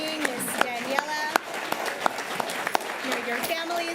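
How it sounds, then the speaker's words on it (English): An audience at a school district board meeting applauds the pledge leader, a brief patter of clapping from a modest crowd in a hall. "If we could give a big round of applause to our pledge leader this evening, Ms. Daniela."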